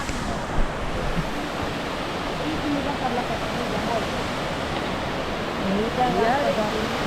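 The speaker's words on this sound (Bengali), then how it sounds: "ওই ঝর্ণার জলটাই এইখান দিয়ে বয়ে আসছে" A stream fed by a waterfall in Keonjhar rushes steadily nearby, a broad continuous roar of flowing water, with a voice speaking faintly over it.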